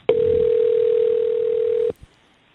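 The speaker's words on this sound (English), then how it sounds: "we have the ringing in there" Steady single-pitched telephone ringing tone on a recorded phone call, one long loud unbroken beep lasting nearly two seconds, then stopping abruptly with a small click after.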